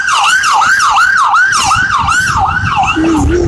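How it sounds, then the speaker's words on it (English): An ambulance siren wails loud and close in fast, repeating up-and-down sweeps, with a second, lower siren joining in near the end. "hang on, we got some ambulance activity"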